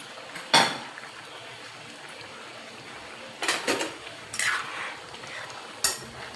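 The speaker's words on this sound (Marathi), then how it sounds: "आता आपण झाकण उघडून बघूया." A metal lid comes off a cooking pot of boiling mango raita mixture on a gas stove. Sharp clinks and clatters ring out at intervals over quiet kitchen background, close by.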